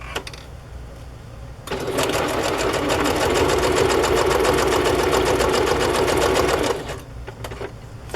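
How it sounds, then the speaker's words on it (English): A sewing machine stitches a fabric pocket onto a journal page, a steady fast close whir running for about five seconds, starting and stopping abruptly with quieter room sound around it. "So now I'm just going to sew this on, and it will be a pocket here."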